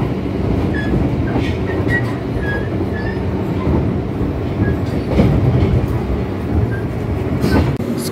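Aboard the Brawijaya executive train travelling from Jakarta to Malang, a loud, steady rumble of wheels on rails fills the carriage, with faint clicks and light squeals over the roar.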